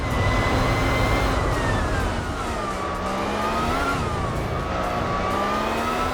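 A Honda S2000 LM race car with over 700 horsepower screams near its 12,000 RPM limit in Gran Turismo 4, a loud continuous high-revving drone whose pitch sags and climbs again as it drives, with no talk.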